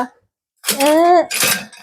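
Metal forks, soup spoons and ladles clatter together in a short, bright burst just after a brief voiced sound, fairly close and loud against an otherwise quiet room.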